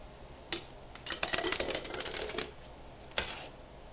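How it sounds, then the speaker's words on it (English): Cooked tomatoes being ladled into a canning jar through a wide-mouth funnel, with light clinks and scraping clatter of utensils against glass in quick clusters, close and moderately quiet. "So I'm going to start filling this jar with the cooked tomatoes."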